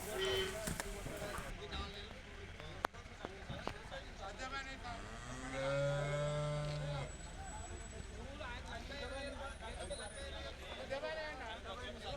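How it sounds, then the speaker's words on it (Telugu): Buffalo and calves moo at a Sunday buffalo market in Erragadda, with one long, low moo standing out among nearby animal calls over steady crowd chatter and a person talking. "ఈ వారం మార్కెట్కి వచ్చిన మొత్తం దూడలను పడ్డ దూడలను గేదెలను చూపిస్తాను చూడండి"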